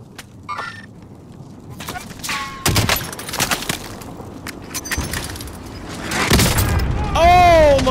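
Enemy gunfire in Call of Duty Warzone, scattered sharp shots and bursts with booming impacts in a close final battle, heard under excited player chatter.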